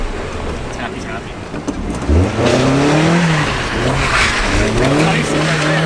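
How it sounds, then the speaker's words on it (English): An old Mazda Miata's engine revs up hard under load, its rising tone climbing in repeated pulls, loud and close with talk over it. "See how close we can get the old Miata to a pull."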